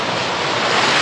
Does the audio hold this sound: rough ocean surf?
yes